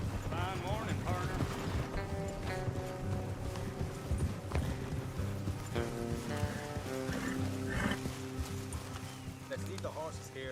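Horse hooves clip-clop steadily in Red Dead Redemption 2 beneath a busy mix of music and voices, the rhythmic hoofbeats moderately loud and continuous throughout.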